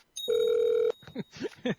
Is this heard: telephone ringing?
yes